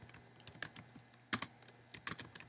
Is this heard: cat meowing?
no